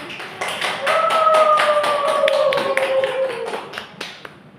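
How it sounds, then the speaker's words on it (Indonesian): Scattered claps from a classroom audience after a group presentation in a microteaching session, sparse and uneven, with a sustained tone running underneath before fading out. "Tepuk tangan."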